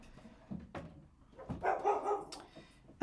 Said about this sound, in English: Of course, right on time, the dog starts to bark.